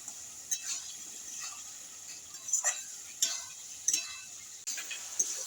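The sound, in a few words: boiled cluster figs being stir-fried with chili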